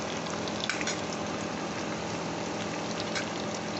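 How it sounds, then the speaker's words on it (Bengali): Onions frying slowly in a pan with chopped potatoes, a soft, continuous sizzle with faint crackles, steady and fairly quiet throughout. "এটা একটু নাড়িয়ে নিচ্ছি, এটা আস্তে আস্তে ভাজা হবে, একটু ব্রাউন মতো হবে।"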